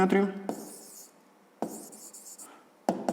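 A pen writing an answer by hand on paper in a maths exercise book, soft scratchy strokes in short bursts, close and quiet, with a voice speaking briefly at the start.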